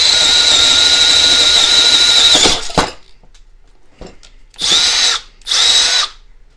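A Milwaukee M12 Fuel hammer drill runs loud and steady for over two seconds, then stops; after a quiet gap it fires again in two short, equally loud bursts, with no talking.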